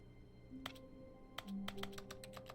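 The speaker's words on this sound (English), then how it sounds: "If I left click, I can type. I hear typing when I left click." Short bursts of computer keyboard typing in the game The Stanley Parable Ultra Deluxe Edition, a few isolated key clicks followed by a quicker run of taps, close and quiet over a faint office hum.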